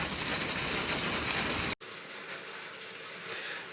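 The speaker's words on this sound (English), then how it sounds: "it's raining and I don't want to ruin the meat" Rain falls outdoors beside a barbecue, a broad steady hiss that cuts off abruptly, then resumes softer and more distant after the break.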